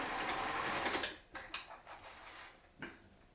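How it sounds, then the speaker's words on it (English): Sewing machine running steadily as it stitches across the bottom edge of a fabric face mask, a close continuous whir for about a second, followed by a few brief clicks and handling knocks. "And we can sew all the way across the bottom."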